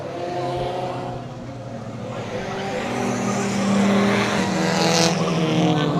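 Race cars lapping a speedway at Willow Springs during an enduro race, engines droning and rising as several cars pass close, one swelling louder then fading, with faint talk underneath.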